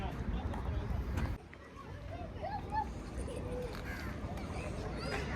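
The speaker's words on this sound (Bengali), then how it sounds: "দেখেন এখানে আমাদের দেশি যে কাক, সেই কাকের ডাক শোনা যায় এখানে আসলে পর।" House crows caw in an outdoor lakeside spot in Dammam, several short calls set back in a busy background of voices and crowd noise.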